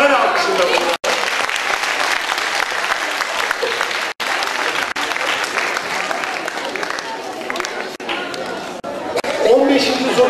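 Studio audience at a national culture quiz competition final gives sustained, steady applause for about ten seconds, with crowd chatter and a voice mixed in under the clapping.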